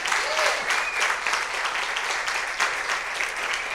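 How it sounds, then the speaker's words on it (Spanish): A church congregation applauding, a sustained, loud wash of many hands clapping with crowd voices and a cheer rising through it. "Yo creo que usted podría darle un aplauso al Señor de agradecimiento."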